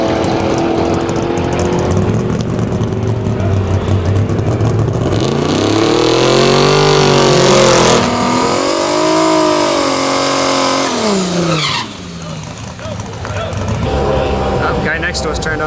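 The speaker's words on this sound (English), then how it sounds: "I'm gonna stand on the accelerator pedal this time, and we're gonna see if we can build a little more boost on the line and hit it and go" A drag race car with boost launches from the line at full throttle, its close engine roaring and rising in pitch, dipping with gear shifts, then fading off, with talk mixed in.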